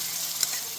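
Tomato paste sizzles and fries in a pan of pizza sauce, a steady close hiss of frying throughout with a faint stir near the middle.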